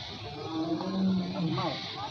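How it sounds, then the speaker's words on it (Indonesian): A white tiger at Taman Safari Bogor gives a low, drawn-out growling roar amid steady background crowd noise and murmured talk. "Oh tuh dia tuh harimau putih tuh. Bersuara dia."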